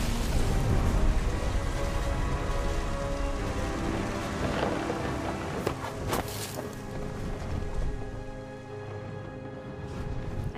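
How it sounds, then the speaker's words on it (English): Steady heavy rain pours in What Remains of Edith Finch, with rolling thunder rumbling low underneath and a couple of sharp nearby cracks partway through, the downpour continuing alone throughout. "The thunder sounded much too close and full of angry power."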